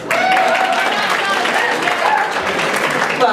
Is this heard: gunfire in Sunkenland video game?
no